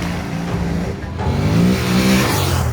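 A Honda NC750X motorcycle engine runs loud and close, its note dipping and then climbing as the revs build, with no voices.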